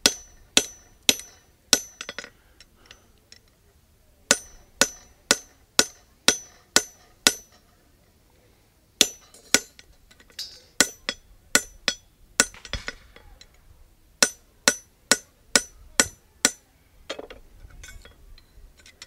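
A blacksmith hammers cherry red hot iron on an anvil, sharp ringing strikes landing in quick rhythmic bursts of several blows separated by short pauses, close and clear at a Civil War reenactment.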